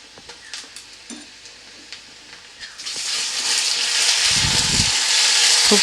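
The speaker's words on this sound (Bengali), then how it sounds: "আমি এবার এর মধ্যে দিয়ে দেবো 1 চামচ আদা রসুনের বাটা" Onions frying in a pan as ginger garlic paste is added for egg curry: scattered stirring taps, then a loud steady sizzle and hiss that swells and holds close up.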